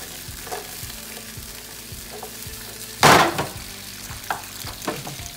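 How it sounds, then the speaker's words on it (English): Steady sizzling and frying of vegetables in a hot oiled pan, with a sharp burst of loud hiss near the middle and a few scraping stirs, close by. "You wanna hear that sizzle, because that's the key."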